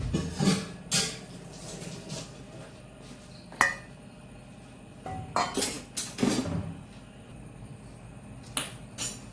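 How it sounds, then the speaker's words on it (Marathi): A spoon scrapes and clinks against a metal pan while hot wheat laddu ingredients are stirred, giving sporadic sharp knocks and rattles separated by quieter pauses, with no one talking. "सगळे जिन्नस फार गरम आहेत. आपण चमच्याने ते हलवून घेऊया."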